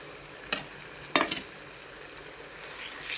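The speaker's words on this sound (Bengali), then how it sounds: "তো ভালো করে লাল করে মাছের ডিমটা করে নেব।" Fish roe frying with browned onion in a pan, a low steady sizzle with a few sharp spatters and stirring clatters, moderately close and otherwise unaccompanied.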